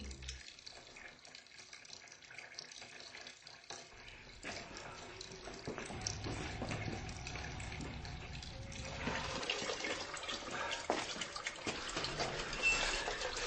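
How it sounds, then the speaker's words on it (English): A faucet runs steadily in a room, a soft hiss of flowing water that swells louder and brighter over time, with faint background noise and occasional murmurs. "Somebody leave the faucet running?"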